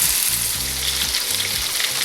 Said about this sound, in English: Got everything sizzling away, cutlets starting to smell really nice